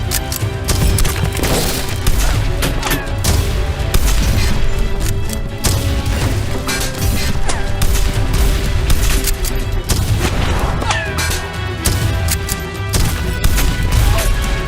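Dense bursts of movie gunfire crackle and boom in rapid, irregular volleys, loud and close, with crashes mixed in across the whole stretch.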